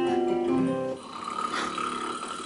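A voice imitates a puppet snoring, with a loud, drawn-out rattling inhale followed by a softer wheezy exhale, close and alone.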